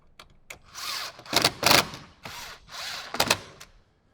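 A power drill driving bolts in during a speaker installation in a 2018–2023 Jeep JL Wrangler, close and loud, in several whirring bursts with short pauses between them, and no talk.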